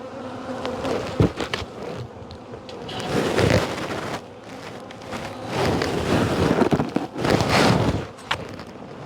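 Honeybees buzz steadily around a hive, a dense, continuous drone with swells as insects pass close, alongside faint wind and rustling.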